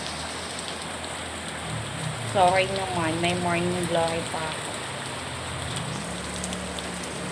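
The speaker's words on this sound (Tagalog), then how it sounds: "Ang lakas ng ulan, guys." Heavy rain falling outside, a loud steady hiss of downpour throughout, with a person speaking briefly over it in the middle.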